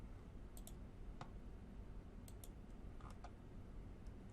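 A computer mouse clicks sharply several times at irregular intervals, some in quick pairs, close and crisp over a quiet room hum with no talking.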